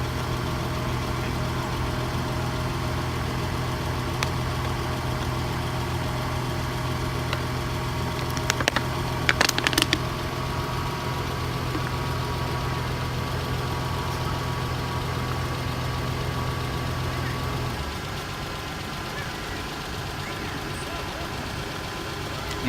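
A Toyota Celsior idles with a low, steady engine hum while its air suspension adjusts, letting out brief hissing bursts of released air midway before the drone drops slightly quieter near the end; no one speaks.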